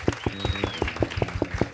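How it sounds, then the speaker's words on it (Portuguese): A short burst of clapping from a small group welcomes Carla, rhythmic and fairly close, with a faint voice. "Damos uma salva de palmas."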